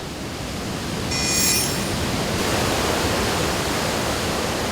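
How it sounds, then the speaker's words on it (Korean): The Li Phi waterfall in Laos rushes as a dense, steady roar of falling water, loud and continuous with no voices. "위험하다는 경고 팻말이 가장 먼저 눈에 띄는 리피 폭포."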